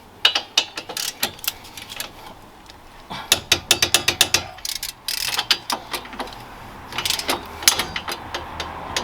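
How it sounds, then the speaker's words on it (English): A torque wrench ratchets while tightening brake caliper bolts on a 2004-2009 Toyota Prius, rapid clicking in close repeated bursts with short pauses between strokes. "now I'm using my torque wrench. I'm torquing it to 60 foot-pounds."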